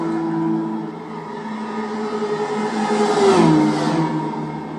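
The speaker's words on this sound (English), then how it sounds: "They sound absolutely fantastic, these naturally aspirated Honda engines." Naturally aspirated Honda race car engines in a video game rev and whine at high pitch, rising and falling as cars pass, with a louder surge near the end.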